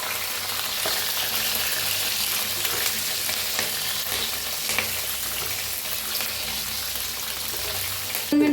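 Green chilies and curry leaves frying in hot oil in a pan, a loud, dense crackling sizzle with occasional stirring scrapes, close up and continuous throughout, no voices.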